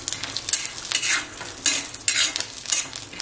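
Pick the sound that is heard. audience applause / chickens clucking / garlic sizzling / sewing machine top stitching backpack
garlic sizzling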